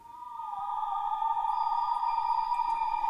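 A steady synth pad holding one sustained tone with rich layered overtones, smooth and even in loudness, playing alone with no other sounds.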